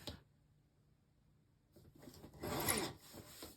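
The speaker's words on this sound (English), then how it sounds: "so I'm going to trim that little bit off" Paper edges of a retro summer mini album being trimmed, heard as a short scraping, zipper-like slide of the cutter that builds after a quiet pause and fades out, close and fairly soft.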